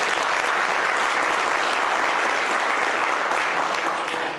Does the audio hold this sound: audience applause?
yes